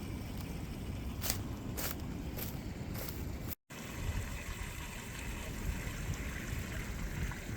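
Small waterfall spilling over a stream crossing on a nature trail, a steady broadband rush of flowing water throughout, with a few brief splashy bursts early on and a short dropout midway.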